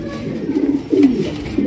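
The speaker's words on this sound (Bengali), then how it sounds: "এক্সিবিশন কবুতর" Exhibition pigeons of tiger coloring cooing at a farm, close low throaty coos repeating in short bursts over a soft background hum.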